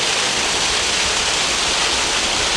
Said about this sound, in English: is that not every bit as good as the Devil's Pulpit, with the waterfall cascading down?